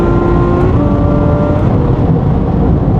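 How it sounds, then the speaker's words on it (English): A Ferrari F12 Berlinetta's naturally aspirated V12 with seven-speed dual-clutch gearbox hums steadily while driving, a loud continuous low engine drone with faint tonal whine heard from inside, no talking. "There's nothing like driving a flagship V12 Ferrari."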